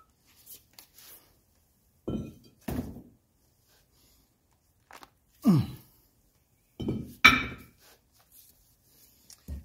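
Weights lifted off and set down on a 1984 Mercedes 300TD's wood trim, a handful of separate dull thunks and light clinks spaced apart in a quiet interior.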